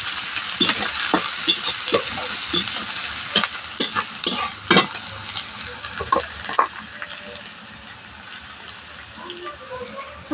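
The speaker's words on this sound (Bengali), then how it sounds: "ভালোভাবে ভেজে নিয়ে এর মধ্যে দিয়ে দিচ্ছি পেঁয়াজ কুচি" A large chopped onion fries in a pan with cloves for an egg curry, sizzling steadily while a spatula scrapes and stirs in irregular bursts close by.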